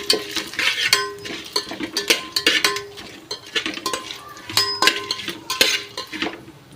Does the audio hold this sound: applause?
no